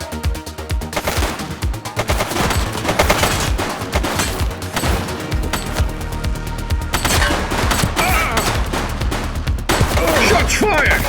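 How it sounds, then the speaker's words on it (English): Rapid gunfire from the police action game The Precinct, with dense bursts of shots and automatic fire running loud and continuous through the whole stretch over game background sound. "Shots fired!"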